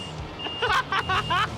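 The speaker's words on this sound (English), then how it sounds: "We've got our beepers working." Rhythmic electronic beeping from a truck's warning beepers at an outback truck festival, four bursts in steady succession, fairly loud and close, with a low engine hum underneath.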